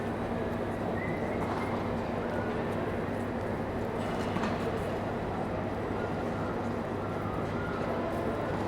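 Busy ambience inside Milano Centrale railway station in Milan, a steady dense wash of crowd murmur, footsteps and low rumble with a faint tone and distant clanks, continuous and fairly even throughout.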